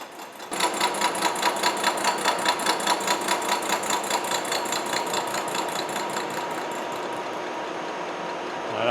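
Horizontal milling machine side milling bronze bearing castings, a steady rhythmic chattering drone with fast regular pulses from the cutter engaging the metal, continuous and close, easing slightly toward the end.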